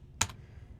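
A single sharp keystroke on a computer keyboard, brief and close, over a faint hum.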